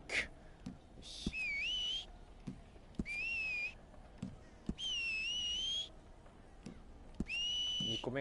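A person whistling short rising tones in four separate bursts, each about a second long, with quiet clicks and faint background noise between them.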